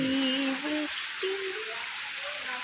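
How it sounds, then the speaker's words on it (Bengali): Rain falls steadily as a continuous hiss of drops, with a voice speaking briefly near the start. "বৃষ্টি বৃষ্টি"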